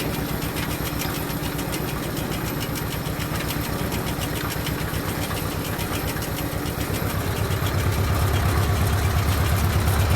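A small engine drives an old belt-type hay rake, chugging steadily and loudly with a fast even rhythm throughout, growing slightly heavier near the end.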